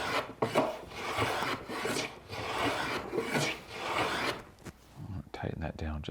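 A Stanley Sweetheart low angle block plane is pushed across wood in several rhythmic rasping strokes, close and fairly loud, with a few clicks and light handling noises near the end.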